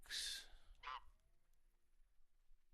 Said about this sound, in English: Oh, we got ducks.